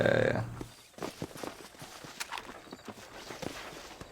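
Hooves clip-clop at a walking pace for a horse in the video game Red Dead Redemption, soft regular thuds over a faint background after a short louder burst at the start.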